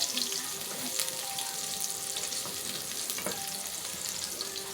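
Garlic and onion fry in a pan for chicken kabsa, a continuous dense sizzle with faint stirring scrapes, close and steady throughout without speech.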